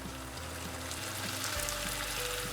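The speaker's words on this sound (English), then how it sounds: "The wine starts to boil, it's correct, and now we let all the alcohol evaporating" Wine boiling in a pan on high heat while an Italian ragout cooks, a steady close bubbling sizzle that carries on without pause.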